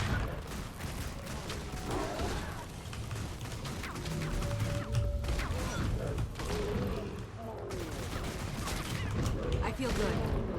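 Enemy gunfire in a video game, with repeated sharp shots and crashing impacts layered over a busy background and intermittent talking.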